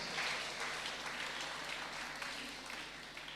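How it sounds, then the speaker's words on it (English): An audience at a college engineering conference claps in sustained, even applause that slowly fades toward the end. "You give the big applause."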